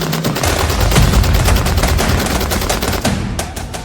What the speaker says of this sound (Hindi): गाजा में युद्ध विराम वाले दावों के बीच ताबड़तोड़ फायरिंग कर रहे ये लोग हमास के विरोधी लड़ाका ग्रुप हैं